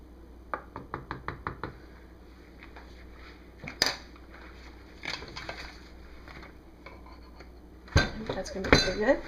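A spoon scrapes and taps against a container while swirling black pepper cold process soap batter: a run of quick rhythmic clicks, scattered knocks, then louder clattering near the end, close by.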